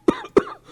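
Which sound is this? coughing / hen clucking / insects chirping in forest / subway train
coughing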